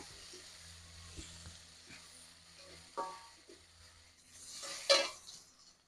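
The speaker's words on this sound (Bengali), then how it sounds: "এবার দিয়ে দেবো আদা বাটা দিয়ে দেবো টমেটো একটুখানি ভেজে নেব" Ginger paste and tomato fry quietly in a pan with a soft, steady sizzle, a few light scrapes, and a brief louder hiss near the end.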